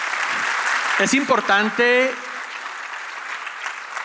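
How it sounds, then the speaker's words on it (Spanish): Audience applause rings out at a Spanish-language talk on multilevel marketing, a steady broadband clatter running under a voice, which speaks briefly near the middle while the clapping continues around him. "Un aplauso, por favor."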